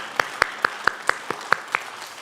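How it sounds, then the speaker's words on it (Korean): A church congregation claps in a slow, even rhythm, about eight distinct sharp claps spaced evenly, moderately close and alone without talk. "박수 한번 하시겠습니다."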